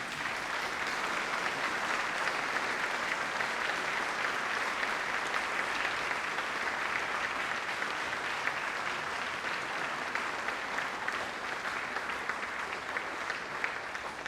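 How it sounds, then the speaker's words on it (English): Graduates at a University of Manchester graduation ceremony applaud their family and friends, a sustained, even roar of many hands clapping that fills the hall without pause for about fourteen seconds. "give them a huge round of applause for all of their support"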